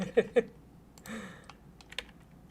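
A few sharp keystrokes on a computer keyboard while keyboard shortcuts are used to block out a simple 3D tree model in animation software: two quick close clicks, then scattered lighter taps in a quiet room.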